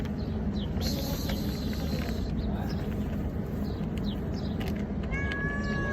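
Hungry pet cats in an office meow repeatedly before feeding, several thin calls rising over a constant rumbling background, with faint bird-like chirps near the end.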